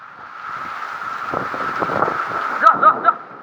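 Gusting wind with light rain during a thunderstorm in Vejalka village, a steady broad rush that swells through the clip, with a few louder flaps near the end.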